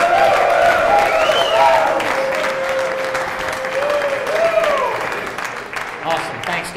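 Audience applause and cheering welcomes local legend Tucker Yates onto a stage at a live talk event, a steady, full room of clapping with scattered whoops that holds for several seconds before easing slightly.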